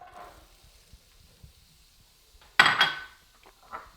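Chopped onion drops into melting butter in a pan for homemade herb stuffing, giving a sudden loud sizzle and clatter that fades over about a second, with a lighter clink after and faint pan noise before.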